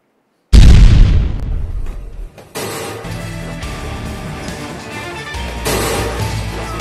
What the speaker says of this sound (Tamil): இந்த நொடியில இந்த ஃபோன் வெடிச்சா எப்படி இருக்கும்?